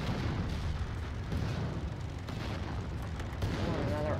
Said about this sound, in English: Oh, another artillery right here.